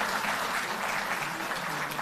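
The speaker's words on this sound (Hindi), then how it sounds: "तालियों की गड़गड़ाहट में वही उत्साह" A crowd applauding at a political gathering, dense continuous clapping that holds steady and fairly loud throughout, with no distinct voices standing out.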